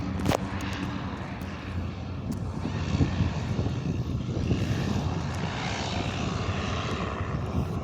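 Goodyear blimp flying overhead at an airshow, a steady droning engine and propeller hum that stays loud and close throughout, rising slightly as it passes directly above.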